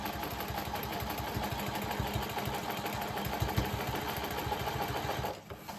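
A sewing machine runs steadily while stitching a quilt block, its rapid needle chatter and motor hum continuous and close for several seconds before stopping abruptly near the end.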